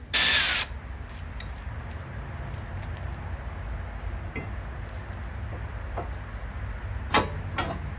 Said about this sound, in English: I'm gonna start with removing the caliper itself.